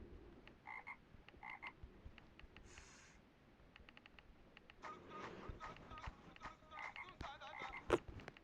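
A frog croaks in a video game, several short bursts repeating in quick clusters, fairly faint, alongside clicks and other small game sounds.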